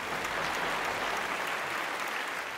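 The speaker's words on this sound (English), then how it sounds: "Let's have a round of applause for them." Steady applause from a live audience at a tech competition show after a team presentation, dense and continuous throughout without any voices.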